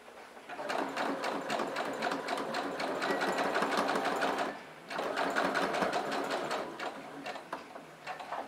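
A sewing machine stitches all the way around the edge of a wallet in two long, fast, rhythmic bursts of needle clatter, with a brief pause between them while the work is turned at the corner.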